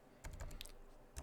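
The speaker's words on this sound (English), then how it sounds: "So I'm typing the description" A computer keyboard being typed on, a handful of soft, quick key clicks heard close but faint, with no talking.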